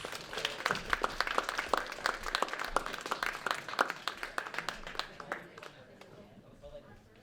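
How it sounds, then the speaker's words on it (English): An audience at a film screening applauds as filmmakers come on stage for a Q&A, with brisk overlapping claps and voices talking over them, loud at first and then thinning and fading toward the end. "Please give them a round of applause!"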